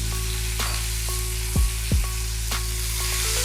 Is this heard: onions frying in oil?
yes